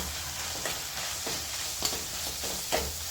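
Onion and gram flour mixture stirred in a pan for Maharashtrian kanda zunka, a soft continuous frying hiss with a few scraping strokes of a spoon, close and steady, with no talking.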